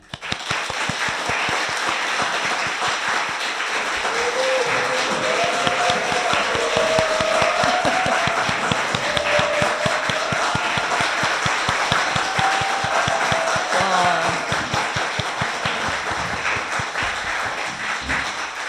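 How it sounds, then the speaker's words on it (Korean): A live audience at a public-broadcast debate on prosecution reform gives sustained, vigorous applause welcoming three panelists, dense rapid clapping holding strong for nearly twenty seconds with a faint voice-like tone rising in the middle. "역대급 박수 아닙니까?"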